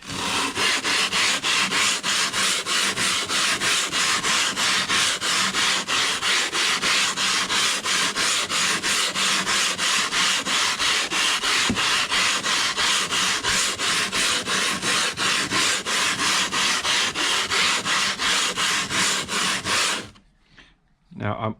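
Steady, loud rasping of 80 grit sandpaper scrubbing a vintage Stanley No.4 hand plane with light pressure, close and continuous in even back-and-forth strokes, stopping abruptly near the end.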